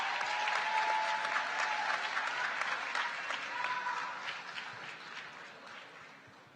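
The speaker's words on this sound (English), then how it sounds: "Another round of applause." Audience applause at a winter university commencement ceremony, a sustained dense wash of clapping from a large crowd that gradually fades over several seconds, with a faint voice briefly audible.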